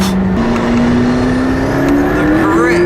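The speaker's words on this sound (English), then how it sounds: "You've got all these turbos like blowing into the back of your ear." A McLaren P1 hybrid supercar accelerates hard from inside the cabin, its loud, steady engine drone climbing in pitch with turbo whoosh layered over it throughout.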